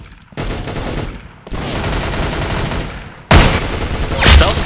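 Rapid bursts of gunfire from the Roblox game Arsenal, loud and close, coming in dense stretches with brief gaps between volleys and no talking over them.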